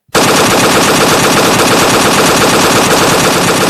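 Loud, continuous machine-gun fire rings out in a Jallianwala Bagh role-play drama. It starts abruptly after a brief silence and holds as a dense, unbroken rattle of shots.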